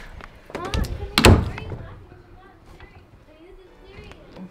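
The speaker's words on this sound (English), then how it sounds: "Close the door." An indoor door closes with a heavy thud, preceded by some rattling and shuffling. Voices talk around it.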